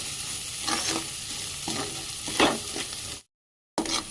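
Turmeric and ginger-garlic paste being stirred into frying onions for a potato fry, a steady sizzle broken by scraping spoon strokes, then a brief cut to silence before the frying resumes.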